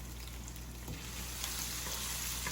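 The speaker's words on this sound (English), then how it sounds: "we're just gonna saute these until they're brown" Red onions saute in a pan for a goat garam masala, a faint, even sizzle with light stirring under a low steady hum.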